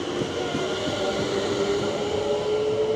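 A train runs along a rail line with a steady, close rumble and a faint high wheel squeal, with no talk.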